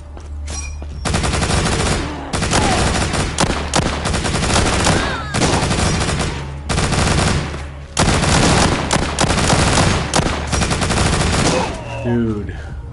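A Gatling gun in The Walking Zombie 2 fires in long, loud sustained bursts of rapid rattling shots, broken by brief pauses, with a voice occasionally talking underneath.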